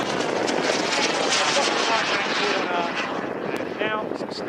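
A Viperjet model jet aircraft powers up at the top of a loop, its engine a loud, steady broadband roar held for several seconds with slight swells as it climbs.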